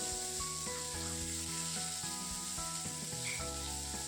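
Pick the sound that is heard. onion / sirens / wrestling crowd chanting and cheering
onion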